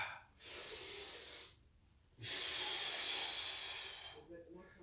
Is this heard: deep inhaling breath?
yes